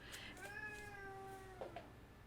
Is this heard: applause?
no